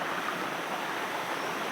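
Steady rushing water of the clear, cold Mangani mountain stream on the Sathuragiri hill trek flowing over rocks, a continuous broadband hiss with no voices.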